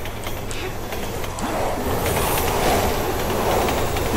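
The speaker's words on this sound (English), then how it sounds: "Train coming!" A train rumbles past loudly in the video game Resident Evil 6, a dense roaring clatter with rhythmic wheel clacks that grows slightly louder midway, with no voices over it.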